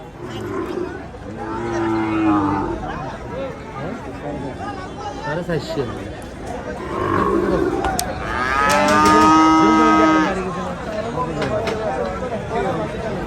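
Bulls moo loudly twice, long drawn-out calls amid a busy crowd of people chattering nearby at the Chandimura cattle market in Comilla.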